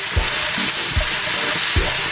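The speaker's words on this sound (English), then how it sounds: "Onion in. Gonna saute that." Onion, garlic and fennel root sauté in leaf lard in a very hot skillet, a loud continuous sizzle broken by three low thumps as the pan or spoon is moved, with no voices.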